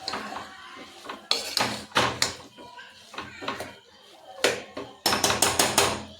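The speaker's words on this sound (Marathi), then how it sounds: "वरतून थोडी कोथिंबीर टाकायची स्वाद येण्यासाठी छानपैकी आणि पुन्हा मिक्स करून घ्यायची." A spoon stirring pumpkin bhaji topped with coriander in a metal pan, giving repeated loud scraping and clanking strokes in irregular bursts, close by, with a voice speaking now and then.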